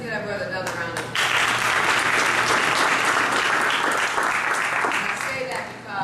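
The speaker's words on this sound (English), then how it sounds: "Let's give our brother another round of applause." An audience at a lecture and book-signing event bursts into loud, sustained applause that fills the room for several seconds. Speech is audible just before it begins.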